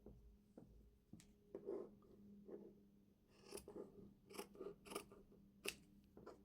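Scissors cutting through fabric for a Christmas cracker table topper, with a series of crisp snips and blade rasps, some clustered and some spaced, close and fairly quiet, with a brief spoken word.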